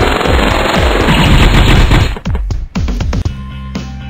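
Tank guns firing in the Epic Battle Fantasy 4 video game: a dense, loud, rapid burst of machine-gun-like shots, followed by a handful of separate heavy thunks and clanks trailing off.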